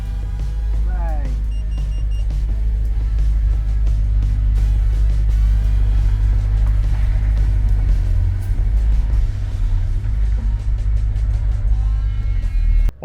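A K24 VTEC-swapped Toyota Camry rumbles along on a test drive, its engine drone steady and close throughout, with a voice speaking briefly over the low road noise.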